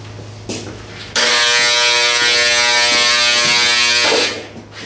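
Heat gun blowing on a painted Mustang hood, a steady close whirring hum with a tonal buzz that starts abruptly and runs for about three seconds before stopping.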